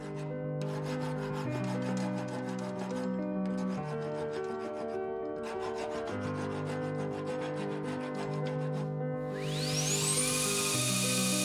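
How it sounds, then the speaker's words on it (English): A hand file chamfering and rounding the sharp edges of steel blacksmith dies, steady rasping strokes heard beneath louder continuous music, with a rising tonal sweep near the end. "The only work that is remaining is to chamfer and round off the sharp transitions"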